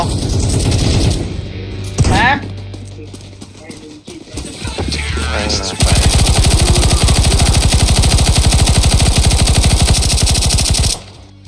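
Rapid bursts of video game gunfire crackle loudly and continuously through the second half, after stretches of game effects and voices talking.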